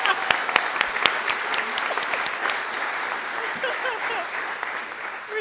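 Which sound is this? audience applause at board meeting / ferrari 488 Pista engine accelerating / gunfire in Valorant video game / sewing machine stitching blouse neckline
audience applause at board meeting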